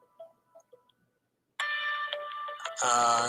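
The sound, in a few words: phone ringing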